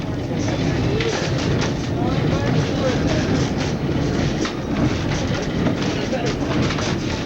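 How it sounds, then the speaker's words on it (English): Steady, loud rumble and rattle of a train on the High Line rail route in Alaska, moving continuously, with voices mixed in throughout. "that train that is up at the summit is coming down soon"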